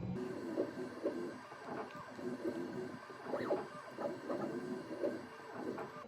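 An xTool M1 Ultra laser machine embossing with its foil transfer tip, a faint mechanical hum with soft rhythmic whirring and repeated motor pulses as the head moves, quiet throughout.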